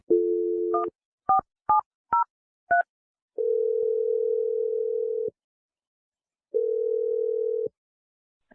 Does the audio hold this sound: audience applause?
no